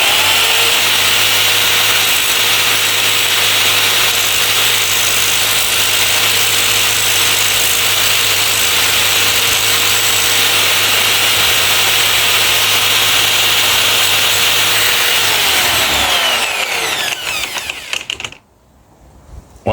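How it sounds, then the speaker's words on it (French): An electric sander grinds against a copper gutter hook in a continuous loud, rough whine with a steady hum beneath, winding down and cutting off sharply near the end. "on allume la ponceuse et on lime ça."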